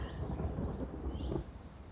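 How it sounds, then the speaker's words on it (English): Deep, rolling thunder from an approaching storm rumbles steadily for about two seconds, loud and low, with no voices. "did you hear that thunder? The storm is getting closer."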